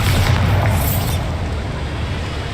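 A Bombarda blasting spell detonating in Hogwarts Legacy, a loud low boom with a rumbling burst that decays into a lingering roar, no voices heard.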